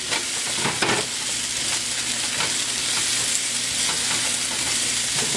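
Peppers hit a hot pan and sizzle steadily, a bright continuous frying hiss with a few sharper crackles and stirring scrapes near the start, heard up close with no talk.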